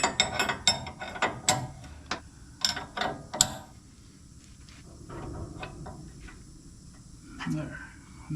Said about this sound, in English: let me take this nut out